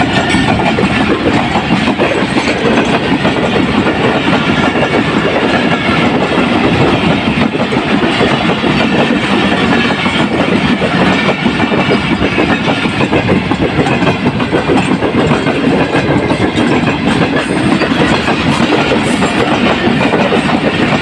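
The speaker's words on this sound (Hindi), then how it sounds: "पटिदन से through by through passing, Karachi से लाहौर के लिए 27 अब शालीमार एक्सप्रेस" Shalimar Express, Karachi to Lahore, passing straight through the Padidan level crossing without stopping: a loud, continuous rush of railcars with steady clickety-clack rolling past close by for the whole stretch.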